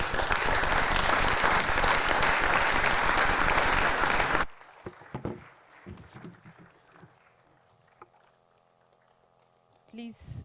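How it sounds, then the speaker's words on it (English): An audience applauds a guest lecturer at the end of a lecture on AI and the built environment, dense and loud for about four seconds, then cuts off abruptly into quiet room noise with faint movement. "Please, another round of applause for our guest lecturer."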